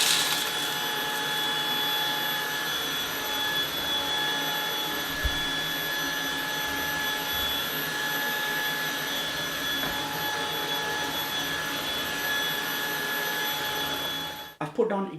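A Shark DuoClean cordless vacuum cleaner, model IF200UK, runs at a steady high whine on its low setting, close and continuous, cutting off abruptly at the end.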